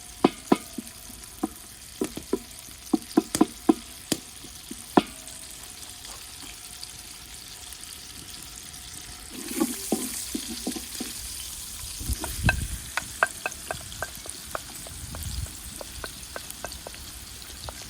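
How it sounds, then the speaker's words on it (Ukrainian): Pork fat frying in a pan until translucent, a steady sizzle broken by sharp pops and crackles throughout, with occasional clinks of a utensil stirring. "Жаряне сало до прозрачності."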